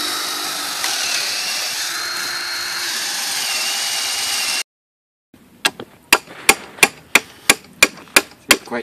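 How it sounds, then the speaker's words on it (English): After a long steady mechanical whine cuts off, a hammer strikes rebar about nine times in a regular rhythm, sharp and close, pounding it down through wooden greenhouse posts into the ground. "we're just going to pound rebar down through it"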